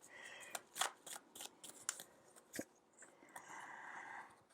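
Tarot cards being shuffled and drawn by hand, a run of quick, close riffling snaps and slides, irregular bursts followed by a softer sustained brushing, with no talk.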